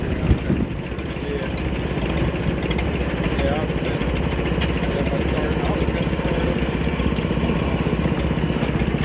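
Several old tractor engines chug and idle steadily together in a slow tractor race at a historical society engine show, a dense continuous mechanical rumble with a brief louder burst at the start.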